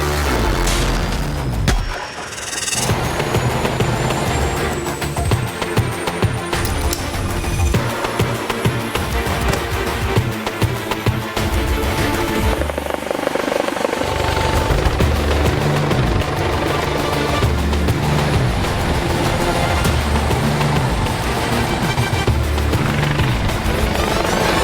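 An air ambulance helicopter powers up loudly, its engine whine rising and rotor thumping building into a continuous heavy roar close by.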